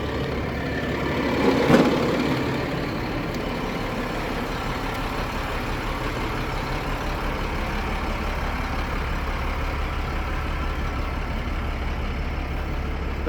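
A 2000 Ford F750 crane truck with a 20 ft flatbed idles steadily, a low, even engine rumble with a brief clunk early on, no one speaking.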